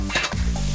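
Butter, capers, lemon juice and chopped parsley sizzle in a pan with eggs, a short burst of close frying hiss and crackle over faint background music.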